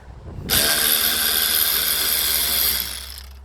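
A power tool undoing bolts on the engine of a 2008 Citroën Nemo van: a sudden loud, whirring buzz that holds steady for over two seconds, then winds down, close and without talk.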